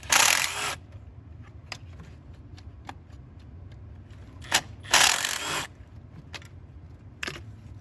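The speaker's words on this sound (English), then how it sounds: "Let's go ahead and zip all these bolts out." A hand ratchet zips out intake manifold bolts on a 2.0T B8.5 car engine, with a few loud, close bursts of rapid clicking separated by quieter handling taps and clinks.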